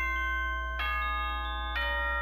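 Doorbell chime in the Danganronpa: Trigger Happy Havoc game, a clear electronic two-tone ding-dong ringing twice over a sustained droning background tone.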